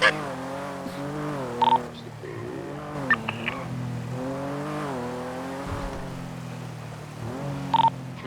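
A car in a video game drives with a droning engine that rises and falls in pitch, joined by a few brief sharp squeals that may be skids, all at moderate volume.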